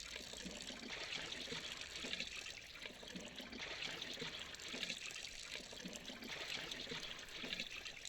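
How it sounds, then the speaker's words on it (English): Water running into a truck's tank in The Slaverian Trucker video game, a steady, faint trickling and gushing flow that continues evenly without talk. "get some water for the truck. Fill that up nice all the way"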